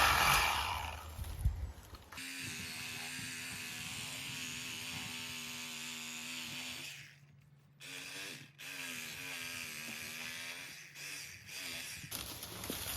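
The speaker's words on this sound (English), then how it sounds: "using a battery operated little sawzall to get us a few of these branches out of the way" A small battery-powered reciprocating saw cuts through tree branches in a field, its buzzing motor whine running in two long bursts separated by a brief pause, fairly quiet and close.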